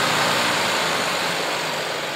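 After a carburetor adjustment, an engine runs at a steady idle with a continuous, loud, broadband drone and no change in pace across the short stretch.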